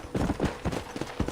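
Steady clip-clop of horse hooves trotting in a video game at an even rhythm, fairly faint, with no voices.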